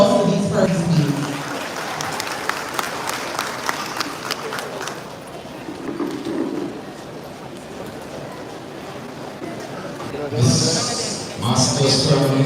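An audience claps at the Edwin Allen High School graduation ceremony, a moderate spread-out patter of applause. A speaker talks over it, and it swells again briefly near the end.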